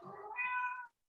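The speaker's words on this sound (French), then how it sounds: "Oh, même le chat, il est content. Il a dit oui." A cat gives a single short meow, close and clear, with nothing else around it before it cuts to silence.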